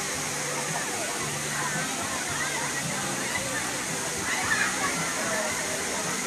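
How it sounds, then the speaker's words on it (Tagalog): Waterfall at LOHAS Park, Hong Kong, a constant broad rushing of falling water filling the scene, with people's voices talking underneath throughout. "Ganda ng falls, oh."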